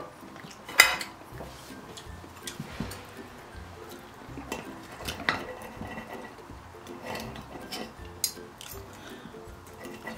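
Knife and fork scrape and clink against a plate while fried giant squid is sliced during a seafood meal, scattered close metallic taps and rubbing over a quiet room with no talk.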